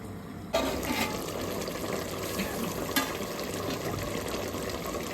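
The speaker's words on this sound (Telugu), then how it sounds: "పప్పు రుబ్బి పెట్టుకున్నాం కదా, అందులో మనకు కావాల్సిన వాటర్ పోసేసుకుందాము" Water pours steadily into ground lentils for Telangana-style sambar, starting abruptly after a brief quiet moment and running as a continuous close splashing fill for several seconds, with a small splash midway.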